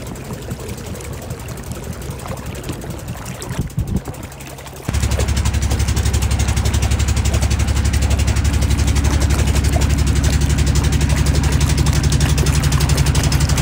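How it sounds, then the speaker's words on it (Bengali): A small trawler's engine chugs steadily on a narrow Sundarbans creek, quieter at first, then louder and constant after a few seconds, with a low droning throb throughout. "ছোট্ট ট্রলার নিয়ে এগোচ্ছি আমরা।"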